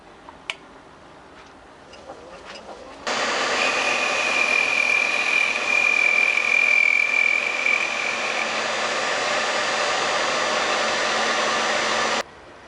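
An antique Logan lathe driven by a treadmill motor spins up abruptly and runs with a steady, whirring hum and faint whine for about nine seconds before cutting off sharply, with light clicks beforehand.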